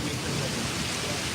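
Heavy rain pours down steadily as dense, even broadband hiss with no breaks, close and fairly loud, while faint voices sit underneath.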